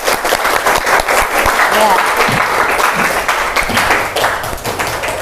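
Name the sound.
applause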